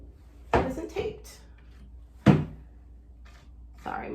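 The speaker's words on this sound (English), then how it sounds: "Sorry, my drawer's making a lot of noise." A noisy drawer at a furniture-painting workbench opens and closes several times, giving off loud, close, scraping knocks in scattered bursts.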